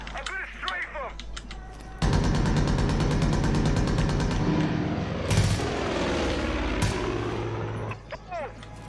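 Aircraft strafing run in Far Cry 5, a loud sustained burst of rapid gunfire over a droning engine, lasting several seconds with sharper blasts midway before fading.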